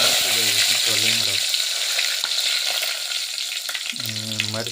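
Curry leaves hitting hot oil in a tempering with mustard seeds give a loud, close, steady frying hiss, with someone talking at the start and again near the end.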